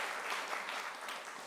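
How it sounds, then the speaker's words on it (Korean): A church congregation applauds during a Sunday service, a dense, even patter of many hands heard from some distance at a soft, steady level without speech. "또 여기 또 수고했다고 박수 좀 쳐주세요"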